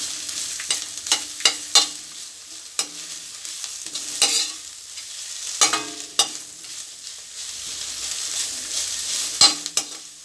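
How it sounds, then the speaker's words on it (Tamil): Dried red chillies sautéing on low heat for a drumstick-leaf chutney, a steady soft sizzle broken by repeated scraping stirs of the spatula against the pan, close up and with no talking. "ஸ்லோவில் வச்சுட்டு வதக்கலாம்"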